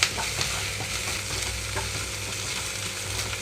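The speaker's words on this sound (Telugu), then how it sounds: "అల్లం వెల్లుల్లి వేసిన తర్వాత థర్టీ సెకండ్స్ పాటు హై ఫ్లేమ్లో ఉంచి వేయించుకుంటున్నాను" Chopped ginger and garlic sizzle in hot oil on a high flame, stirred in a pan for a ridge gourd curry. A steady crackling fry runs throughout with light scraping.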